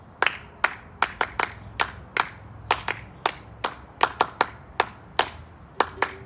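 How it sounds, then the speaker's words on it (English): An audience claps along before a song, giving sharp, distinct claps at a loose steady beat, about twenty over six seconds, each with a short room echo and no voices over them. "Clapping first."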